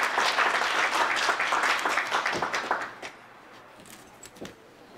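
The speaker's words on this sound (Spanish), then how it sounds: "¡Que se escuche el aplauso!" Audience applause for a contestant at a pageant-style event, dense clapping loud for the first half then thinning to scattered claps.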